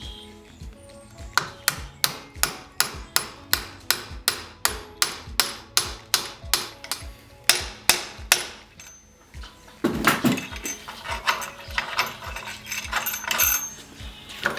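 A hammer pounds a coupling down over a bolt on a tiny house awning, giving about twenty sharp, evenly spaced metallic strikes up close, followed by a burst of scraping and a few softer knocks.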